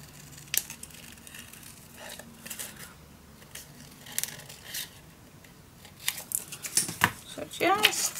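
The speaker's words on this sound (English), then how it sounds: "I just wanted to show you how easy it is to cut out those round ones." Scissors snip through paper while round shapes are cut out, giving repeated crisp cuts and rustles at close range, scattered irregularly and growing busier toward the end, with a person speaking throughout.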